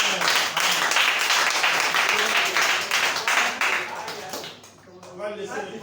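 A church audience applauds and cheers, a dense wash of clapping under excited voices that thins toward the end as shouting takes over.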